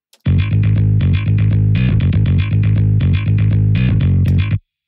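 A programmed, sequenced bass line with a distorted, effected tone plays alone in steady repeating notes, loud and close.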